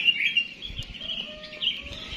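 Small birds, including bulbuls, chirp and trill in a guava tree on a morning in Ponorogo, a continuous bright twittering with a faint underlying hum, fairly close and without talk.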